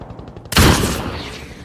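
Gunfire in the war film The Wall (2017): after a short, faint, rhythmic stretch, one sudden loud shot or burst bursts out and rings off into a long, dusty, decaying roar.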